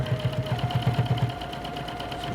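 A sewing machine stitches a seam on a fabric drawstring bag in a quick, even run of close, steady needle thumps that stops after about a second, leaving a faint motor hum.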